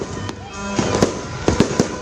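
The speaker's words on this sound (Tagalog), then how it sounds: "sabay-sabay na nagliwanag ang kalangitan sa nagagandahan at makukulay na fireworks display" New Year fireworks burst over White Beach in Boracay, several sharp explosive cracks and pops scattered across two seconds over a constant crowd murmur, with noisemaker horns faintly mixed in.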